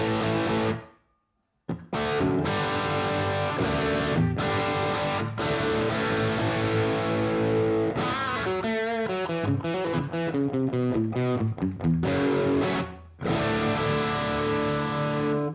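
Electric guitar played through a crunchy, overdriven Marshall-style amp tone on a Quad Cortex, strummed chords and sustained notes ringing out, with a brief silence near the start.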